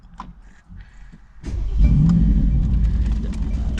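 A 2021 Mercedes-Benz G550 SUV engine revving up from idle, a deep rumble rising into a loud, sustained roar that holds close by.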